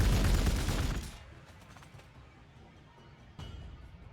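Units firing in Warhammer 40,000: Gladius, Space Marines against Castellans: a loud burst of rapid gunfire at the start fades into a quieter crackle, then another sharp volley breaks out near the end.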